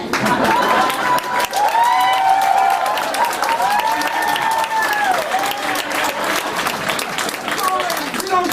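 A comedy show audience applauding in a loud, sustained burst of clapping with cheering and whoops, while a voice talks over it.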